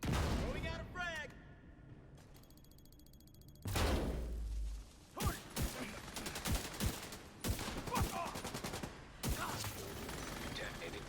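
Sustained gunfire in The Division 2, with rapid bursts and separate loud shots spread across the scene, plus a heavy boom, while in-game voices and radio chatter come through between the shots.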